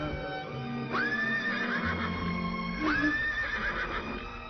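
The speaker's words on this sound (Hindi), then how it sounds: "ये घोड़ा क्यों छटपटा रहा है?" A distressed horse in a staged historical drama gives two loud, shrill whinnies a couple of seconds apart, with faint background noise between them.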